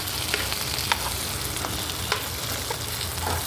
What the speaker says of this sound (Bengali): ঢেঁড়স দিয়ে ভালো করে এখন ভেজে নেবো